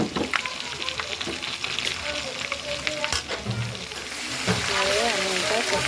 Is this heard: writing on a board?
no